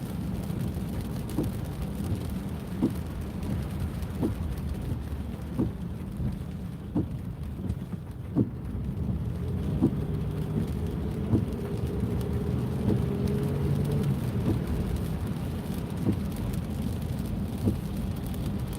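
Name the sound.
rain falling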